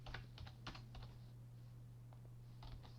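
Keys clack on a computer keyboard in quick bursts with short pauses while a web page is written, quiet and close over a steady low electrical hum.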